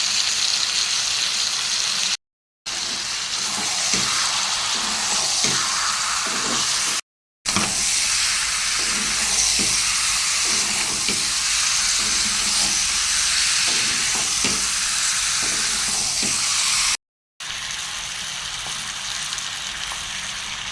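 Turmeric and chili powder fry in hot oil in a pan, giving a loud, steady, close sizzle with soft stirring scrapes underneath, broken by a few abrupt moments of silence; no one speaks.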